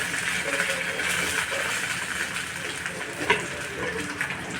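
Finely chopped tomato and green chillies frying in a pan, giving a steady close hiss with faint stirring and a brief sharper pop partway through.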